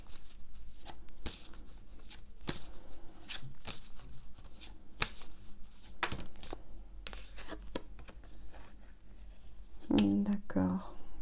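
Tarot cards being shuffled and drawn during a reading: repeated soft riffling and sharp card flicks in an irregular rhythm, close and fairly quiet, with a low voice speaking near the end.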